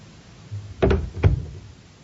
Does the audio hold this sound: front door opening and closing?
yes